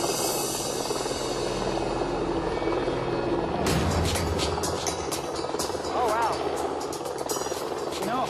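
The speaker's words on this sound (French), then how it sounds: "N'importe qui serait capable de reconnaître qu'il s'agit d'un hélico." A helicopter's loud, droning engine and rotor hum throughout, growing harsher and more intense partway through as it seems to close in.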